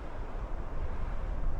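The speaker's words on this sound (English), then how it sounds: "It's a little bit windy" Wind blows steadily through a woodland campsite, a constant broad rushing noise with slight gusty swells and no other sounds.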